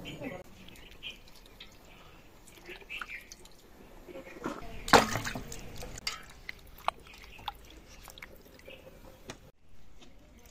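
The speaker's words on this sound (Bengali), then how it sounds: "এবার আমগুলো আমি ধুয়ে নেব।" Fresh green mangoes are washed in water by hand: scattered drips and soft squishy sloshes, with one louder splash midway, then quieter trickles and handling noises close by.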